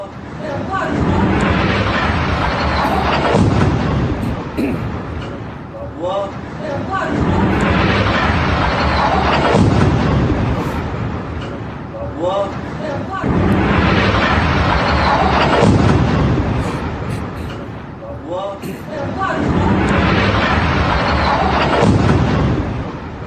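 Israeli strikes on Hezbollah positions in Lebanon: loud, dense rumbling blasts and booms arrive in repeating waves, with voices mixed into the din throughout.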